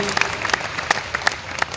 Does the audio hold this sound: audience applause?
yes